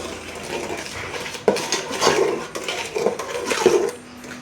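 A spoon mixes egg halwa batter of beaten egg and milk in a bowl, with irregular clinks and scraping taps against the sides, close and moderately loud.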